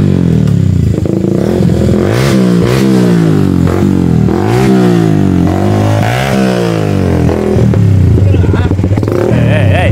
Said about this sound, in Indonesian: Tapi suara ini suara motornya beda